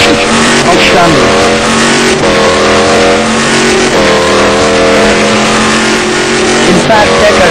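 A touring race car at Trois-Rivières roars loudly through braking and hard cornering, engine note rising and falling continuously, with a commentator talking over it.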